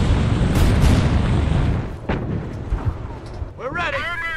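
Anti-tank fire and explosions boom close and loud in the Company of Heroes video game, with a heavy blast cluster first and then scattered sharp reports. Soldiers' voices shout over the fighting near the end.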